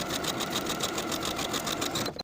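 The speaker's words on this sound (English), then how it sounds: "Sew from top to bottom of the pocket with a 1/4 inch seam allowance." A sewing machine stitches a pocket seam on pull-on pants, a fast, even, close rhythmic whir of stitching that runs steadily for about two seconds before halting.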